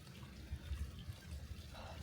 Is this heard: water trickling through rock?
yes